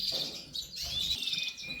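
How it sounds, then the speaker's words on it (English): Lesser redpolls and other finches in an indoor bird room giving thin, high chirps and twitters, a few quick calls over faint background noise. "lesser redpolls."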